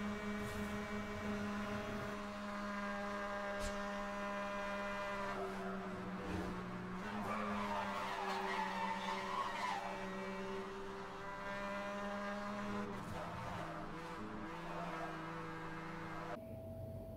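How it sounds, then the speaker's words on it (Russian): Cars racing police in Need for Speed Hot Pursuit, a sustained droning engine whine with shifting pitch running continuously, an abrupt change near the end. "Ну а теперь гонка с полицией."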